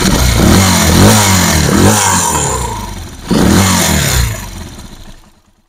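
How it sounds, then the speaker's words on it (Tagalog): Rusi Chariot 175 motorcycle engine revved hard in repeated loud bursts close by, dipping briefly before one more surge, then fading away to silence. "maganda, bumbahin natin guys para marinig niyo."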